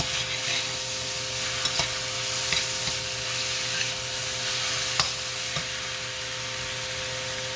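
Tomatoes frying in a pan for Punjabi-style Maggi noodles: a constant close sizzle with light clicks and scrapes of stirring scattered throughout, no voices.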